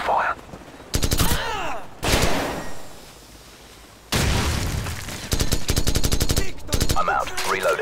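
Rapid bursts of automatic rifle fire and booming shots in the video game Call of Duty 4 Modern Warfare, loud and close, coming in clusters separated by short lulls.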